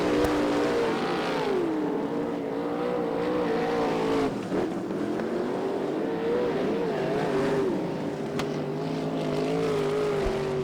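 Six sprint race cars roar into turn 3 at the start of a heat race in a Top Gun Sprints program, a loud, continuous engine drone with pitch rising and falling as they pass, no talk.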